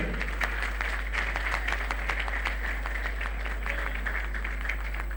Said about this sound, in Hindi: सब लोग भरपूर तालियों के साथ एक दफा मेयर सफदर अली का शुक्रिया अदा करें